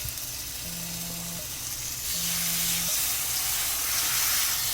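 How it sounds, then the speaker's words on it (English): Steak sears in a hot pan, a loud, close, unbroken sizzle that swells louder midway as a second steak is pressed down, with faint low tones in the background and no talking. "See how you can hear that sizzle?"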